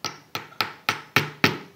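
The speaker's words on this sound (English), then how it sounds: "you take push pins and you hammer them" A hammer drives push pins into a wooden picture frame at a fine art store in Jerusalem: six sharp, evenly spaced taps, close and crisp, with no talking.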